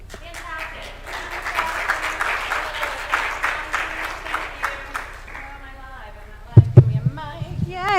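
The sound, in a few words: audience applause for a speaker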